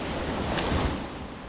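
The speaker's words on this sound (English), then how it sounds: "The swell's coming over a lot more than it was." Ocean swell surging and surf breaking over shoreline rocks, a steady broadband wash with a gentle swell in the middle, wind buffeting the microphone, no voices.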